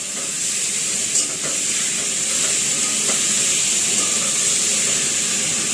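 Chicken cooks in a pan, giving a steady, loud, continuous sizzle and hiss with occasional faint stirring clicks, no talking.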